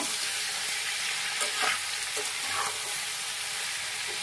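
Ripe tomatoes and ground spice paste being stirred in a frying pan for Bengali pabda fish curry, a steady broadband sizzle with a few soft scraping strokes, close and continuous, no talking.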